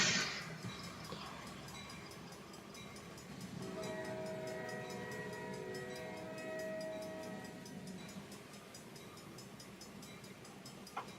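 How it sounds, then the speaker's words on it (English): Trains passing in a video game, a faint steady rumble of rail cars with a sustained horn-like tone sounding for several seconds in the middle. "there are trains everywhere."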